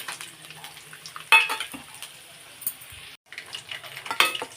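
Garlic, chana dal and peanuts frying in a pan, with a soft steady sizzle and a few sharp clinks and scrapes of a spoon against the metal, close and fairly quiet, no talking.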